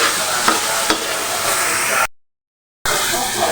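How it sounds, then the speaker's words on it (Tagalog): Thinly sliced lean pork frying with shrimp paste in a pan for binagoongang talong, a steady broadband sizzle with stirring scrapes, broken by a short gap of silence before the sizzling resumes. "Pagkatapos natin ay ilalagay ko na yung pork lento na hiniwa lang sa maliliit."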